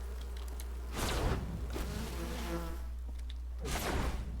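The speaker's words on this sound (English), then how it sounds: "Oh, the bees are out." Bees in the game Enshrouded buzz around the player, with loud swelling passes drifting close and away over a steady hum.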